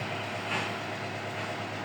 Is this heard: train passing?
yes